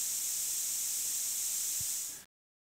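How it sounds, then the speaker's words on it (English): An aerosol spray can sprays in one steady, close hiss lasting about two seconds, then cuts off abruptly into silence. "He'd sit quietly and shake it, and spray it all the day."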